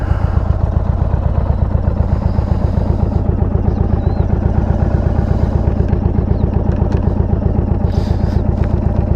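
2022 Indian Chief motorcycle rides along with a steady, rapid engine pulse while an aftermarket windshield rattles throughout, heard close and loud.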